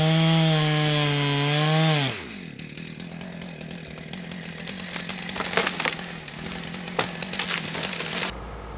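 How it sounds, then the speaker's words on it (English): A chainsaw cuts a wedge into the base of a tree trunk during forestry felling work, starting with a steady high engine whine that drops sharply as the chain bites into the wood, then a rough grinding cut with scattered crackles, close and loud. "cutting a wedge into the base of the trunk to allow him to safely direct the fall of the tree"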